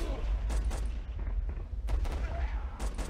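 Machine-gun and rifle fire in the WWII strategy game Warfare 1944, several short bursts of shots in quick clusters with gaps between, over a low rumbling background.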